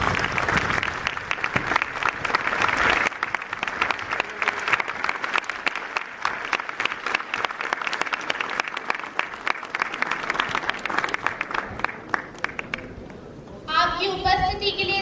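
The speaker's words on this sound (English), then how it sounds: "thank him with a huge round of applause" A large audience at a national moot court competition gives the chief guest a long, loud round of applause, with a few voices audible over the clapping before it thins near the end.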